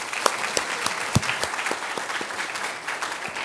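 Audience applause at the closing ceremony of a university presentation contest finals, a steady crowd clapping with a few sharper nearby claps standing out, no talking over it.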